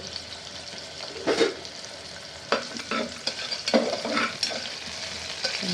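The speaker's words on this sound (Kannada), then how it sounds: "ಈರುಳ್ಳಿ ಸ್ವಲ್ಪ ಬ್ರೌನ್ ಕಲರ್ ಆಗಬೇಕು" Onion frying in a pan for a sprouted horse-gram curry, with a soft sizzle broken by several distinct scraping stirs of a spatula spaced a second or so apart.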